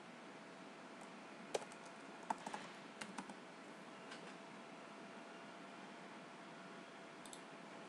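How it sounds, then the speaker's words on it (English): Typing on a computer keyboard in a quiet room gives a few scattered, faint key clicks over a steady hiss of fan-like background noise. "You will have to type the title."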